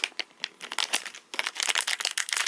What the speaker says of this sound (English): let me use the scissors